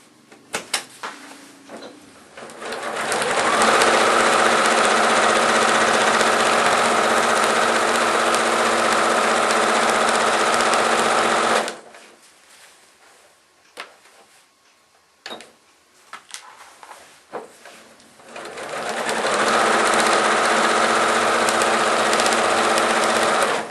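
A sewing machine fitted with a walking foot stitches through quilting fabric in two long, steady, close runs, with a quiet pause between them filled by a few small clicks and handling noises.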